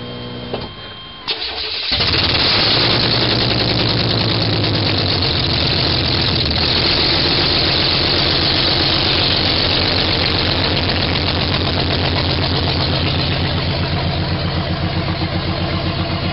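A 1993 Chevrolet S10 Blazer engine cranks and starts after a short pause, then runs loud and steady through its exhaust with a rough, throaty idle close by.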